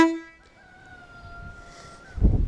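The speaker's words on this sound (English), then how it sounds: "this is an air horn on this tractor. It is quite good." A tractor-mounted air horn blasts briefly at the start, then a fainter drawn-out horn tone trails on before fading into low rumble and a thump at the end, with no voices.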